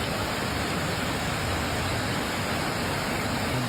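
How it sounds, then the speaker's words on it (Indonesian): Water rushes through a flooded, widening river in Aceh, a dense and steady broadband roar with no pauses. "Air sungai semakin melebar dan meluas."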